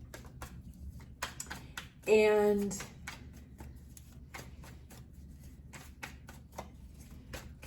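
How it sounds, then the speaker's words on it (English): A brief burst of rapid tarot card shuffling rises out of soft clicking and light tapping, with a single word spoken quietly nearby. "for some reason I feel like shuffling"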